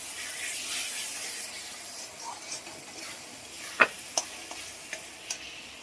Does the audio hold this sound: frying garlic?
yes